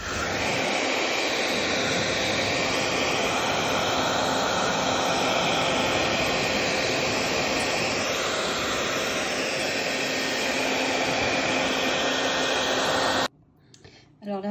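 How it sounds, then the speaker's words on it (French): A loud, steady hair dryer drying paint on a glass photo frame roars continuously at close range, a constant blowing whoosh that cuts off abruptly near the end. "Je vais prendre le sèche-cheveux tout simplement pour sécher plus vite"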